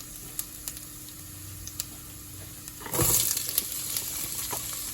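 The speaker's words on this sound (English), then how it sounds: "I'm going to go ahead and add the onions." Onions dropped into a hot pan of oil while cooking a fettuccine dish, a sudden loud burst of sizzling that keeps crackling steadily after a few quiet clinks and soft background hum.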